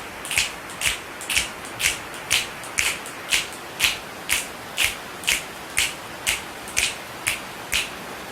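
Rain imitated by a group of people snapping their fingers: crisp, even snaps repeat roughly twice a second in a steady rhythm over a soft rustling background, with no talking.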